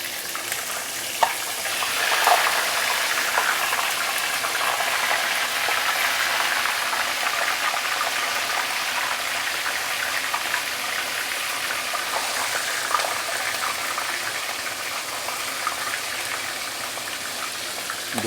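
A fish head deep frying in a pot of hot oil, a steady loud sizzling hiss that holds evenly throughout with a few small pops.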